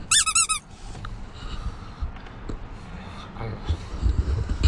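Rubber duck toys set up near a vehicle's gauges give a quick series of sharp, bright squeaks when pressed, followed by softer rustling and handling noise.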